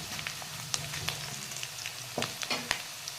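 Potatoes frying in a pan as spices are added give a steady close sizzle, with scattered sharp scrapes and clicks of stirring throughout.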